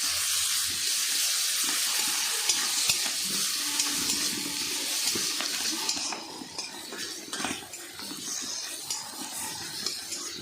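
Chopped tomatoes go into a pan of golden-brown fried onions for dal on a picnic cooking setup, bringing a steady hiss of sizzling oil with scraping and stirring against the pan, no voices over it.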